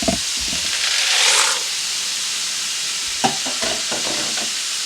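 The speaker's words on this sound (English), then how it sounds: "the water is already boiling, so I'm going to be adding" Dry ziti pasta goes into a pot of boiling water: a constant bubbling hiss with a brief louder rush as the pasta drops in, then scattered light clatters of pieces settling.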